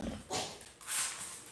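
Indoor dogs bark and whimper in two short bursts, fairly faint and a little distant, with soft whining between them.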